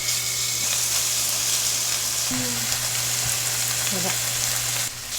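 Okinawan beef sizzles steadily in a hot frying pan, a constant crackling hiss with a few brief clinks and scrapes partway through.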